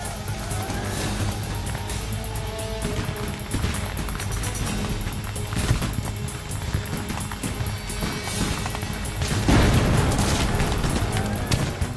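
A Civil War battlefield at Gettysburg: a dense, continuous roar of massed musket gunfire and booming cannon fire under an advancing charge, loud throughout and swelling into a heavier burst near the end.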